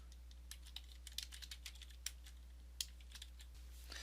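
Typing on a computer keyboard, a quiet steady patter of light key clicks with occasional sharper taps over a low constant hum, no voices.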